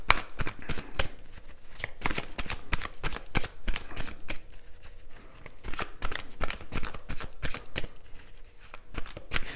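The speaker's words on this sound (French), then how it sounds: "Est-ce que je continue avec un tarot? Oui. Ok. D'accord. Bon, on va remettre des cartes juste partout." Tarot cards shuffled and laid out by hand, a steady run of crisp riffling flutters and soft slaps, close and continuous with no talking.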